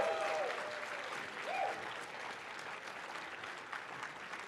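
A large crowd at a Grand Archive trading card game tournament in Las Vegas claps steadily, with sustained applause and cheering that holds at full strength throughout.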